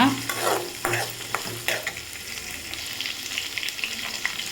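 Small shallots sautéing in a pan for village-style chicken sukka, a steady close sizzle broken by several sharp stirring scrapes early on, with no voices.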